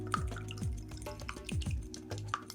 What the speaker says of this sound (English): Oh, here it is. My handy little whisk.